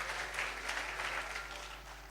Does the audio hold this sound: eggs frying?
no